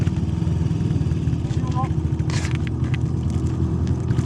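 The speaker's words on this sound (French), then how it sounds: "va bien falloir remonter sur la moto pour la ramener." Motorcycle engine running on a frozen lake in Sweden, a steady low throbbing idle close by with a brief higher rev or sharp noise midway, while someone talks over it.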